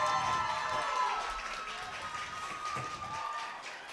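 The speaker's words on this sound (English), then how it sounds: "Reaction of the crowd, kind of thought there might have been a penalty." A crowd at a high school football game between Shelton and North Thurston reacts after an incomplete pass, a broad, steady roar of many voices that swells and then eases as a brief cheer.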